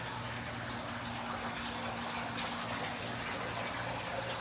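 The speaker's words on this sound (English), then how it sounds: "You can really see the water running over here." Water running steadily over a rock wall exhibit in a natural history museum, a constant, fairly loud wash of flowing water with no breaks.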